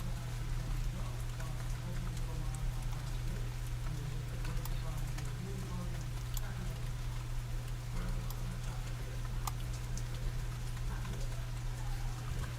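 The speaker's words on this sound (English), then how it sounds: "I hope you can hear the rain." Steady rain falls throughout, an even wash of patter and scattered drops with a constant low hum underneath.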